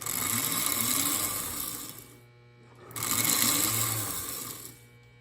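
A cleaned electric motor in an old toy train runs with a steady mechanical whirr and buzz, loud and close, dropping away briefly in the middle before picking up again. No voices.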